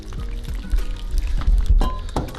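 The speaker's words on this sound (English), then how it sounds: "And I'm gonna put in some warm water" Warm water is poured from close by onto cornstarch, a short sloshing trickle with gurgling splashes and a clink or two partway through.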